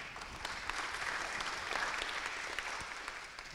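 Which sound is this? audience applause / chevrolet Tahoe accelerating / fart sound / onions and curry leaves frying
audience applause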